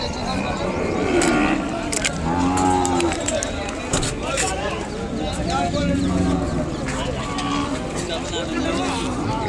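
Ongole bull calves at a Kodada cattle market give several drawn-out lows over a busy crowd, with constant talk and other noise around them.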